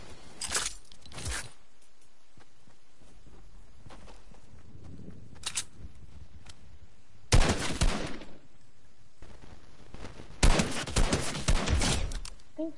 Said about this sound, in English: I think someone's shooting me.